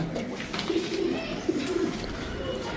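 Soft, low coos of Lahori and Sirazi pigeons repeat a few times under a steady background hum, fairly faint.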